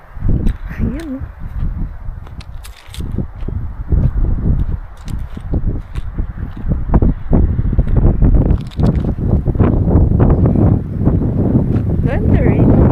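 Strong wind gusts across a hillside moto-camping site in Malico, Pangasinan, buffeting the microphone with a low, rumbling roar while people talk over it.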